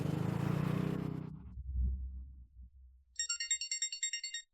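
A phone call to the boss rings with a rapid electronic trilling ringtone, heard in repeated short pulses after a rumbling noise dies away.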